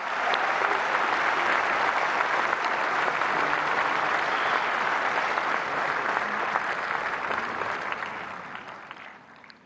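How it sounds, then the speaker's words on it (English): Sustained audience applause for the Prime Minister at the AI Impact Summit, a dense, even wash of clapping from a large crowd that holds steady and then fades toward the end. "Give a big round of applause for the Honorable Prime Minister."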